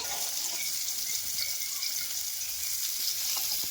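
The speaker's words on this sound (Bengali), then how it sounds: "ভালো করে ফুলকপিটা ভেজে নিয়েছি এখন আমি তুলে নেব" Cauliflower frying in hot oil, a dense, even sizzle heard up close with a few faint clicks and no voices.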